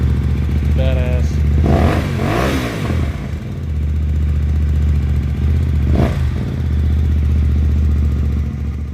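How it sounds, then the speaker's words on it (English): A 2016 Hyosung GT250R motorcycle fitted with an upgraded aftermarket exhaust idles loudly close by, then barks through two quick sharp revs that rise and fall, each throttle blip standing out over the steady idle. "Absolutely amazing sounding exhaust"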